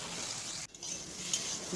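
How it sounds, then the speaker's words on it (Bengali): Pumpkin pieces frying in oil in a kadai, a steady soft sizzle with a brief dropout partway, then a small clink near the end. "এইবার কুমড়োগুলো ভেজে নেব।"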